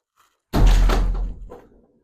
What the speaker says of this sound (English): Let me open this door for my dog.